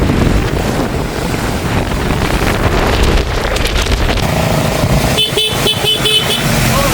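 Floodwater pours across the Punkudutivu–Nainativu island road, a rushing wash heard amid wind buffeting the microphone, with a vehicle's horn-like tones and engine noise breaking in near the end.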